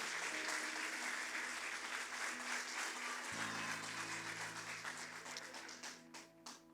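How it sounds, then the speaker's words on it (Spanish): Church congregation applauding during a Sunday service, sustained clapping from many people over a low steady hum, becoming patchier and fading toward the end. "Den un aplauso al Señor,"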